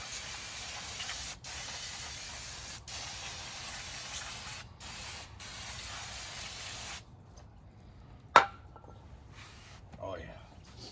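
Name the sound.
spraying brake cleaner on 1986 F150 rear brakes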